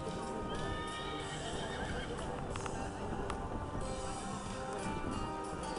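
A pony neighs and hooves clip-clop on ground at an outdoor equestrian prize ceremony for the French E elite pony championship, with steady crowd and wind ambience underneath throughout.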